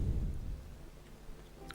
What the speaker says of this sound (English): here we have got some lightning impacts